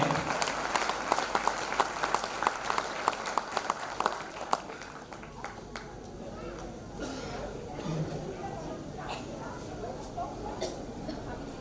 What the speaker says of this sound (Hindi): आप हम सब के गुरुजनों के लिए दोस्तों जोरदार तालियां जरूर बजाइए